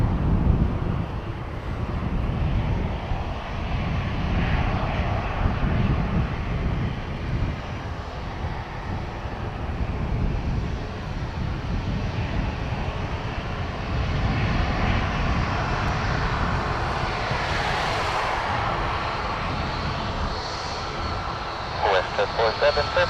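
A Cessna Citation business jet roars on its takeoff run at Dublin Airport, a broad steady engine rumble with wind buffeting the microphone, rising toward a higher whine near the end, while people talk over it.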